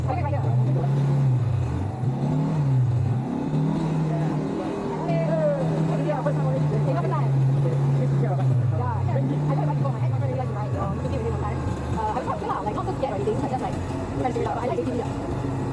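ATV engine droning steadily with gradual throttle increases, the tone rising and dipping in waves beneath continuous talking outdoors.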